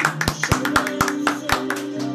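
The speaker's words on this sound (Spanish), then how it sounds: "Un aplauso para Marcas." A few people clap in a regular, sharp rhythm about four claps per second, close and distinct, over a steady musical tone during a live rock radio stream.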